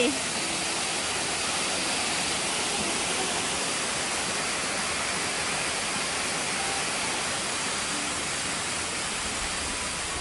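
Waterfall at a viewpoint rest stop on the grounds of Wat Tham Pha Daen, a steady broadband rush of falling water that holds an even level throughout, with no distinct voices rising above it.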